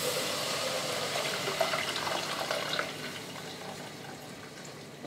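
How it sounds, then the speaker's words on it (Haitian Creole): Water poured over toasted djon djon mushrooms in a cooking pot, a steady close splashing gush that gradually eases off, with no voices. "Moi je vais mettre de l'eau dans le jonjon pour capable déteindre."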